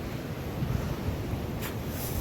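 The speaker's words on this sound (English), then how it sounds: "it's very, very windy here" Strong wind roars and buffets steadily against the microphone on a high mountain trek at Rupin Pass, a dense, constant rumble with a brief gust near the end and no voices.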